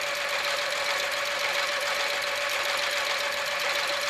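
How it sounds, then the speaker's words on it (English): A sewing machine stitches fabric with a fast, even hum and rapid mechanical chatter, running steadily without pause and with no talking. "you just let the sewing machine gently feed the fabric itself"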